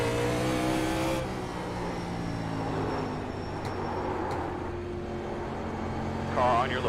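Race car engines in the iRacing sim roar into a hard acceleration at a green-flag start, a loud sustained drone with rising pitch that drops in intensity after the first second, a brief higher rev near the end.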